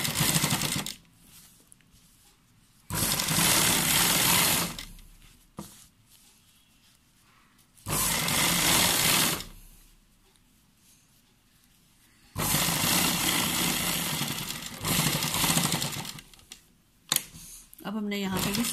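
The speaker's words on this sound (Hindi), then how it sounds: "इसे अब हम रख के यहाँ पे सिलाई लगा देंगे।" Bursts of a sewing machine stitching a cuff onto a garment sleeve, loud and close, starting and stopping several times with quieter gaps where a voice talks.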